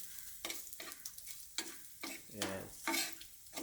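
Spices for a toddy-shop style fish curry are stirred and sautéed in a pan, giving quiet, rhythmic scraping strokes over a faint sizzle.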